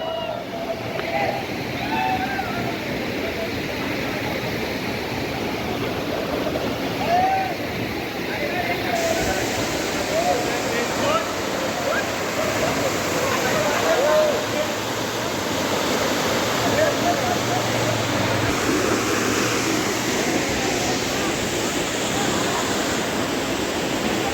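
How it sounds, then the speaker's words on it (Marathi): A large monsoon waterfall at Mahabaleshwar roars as a steady, dense rush of falling water that fills the whole stretch, with voices faintly audible beneath it. "खूप मोठा वॉटरफॉल आहे"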